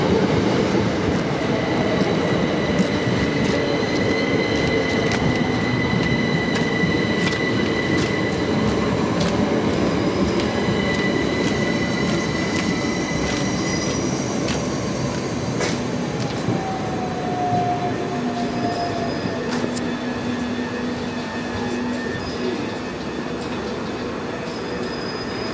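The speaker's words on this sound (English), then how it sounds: "here comes my train." A passenger train arriving at a station on the LB&SCR route to Horsham, a continuous loud rumble of wheels on rails with clickety-clack beats and drawn-out wheel squeals as it slows, steady and close throughout.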